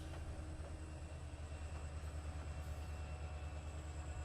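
Rolling train in Trainz Simulator 3 on an Australian rescue mission, a low steady rumble with faint rail clatter underneath, continuous and fairly quiet, with no talking.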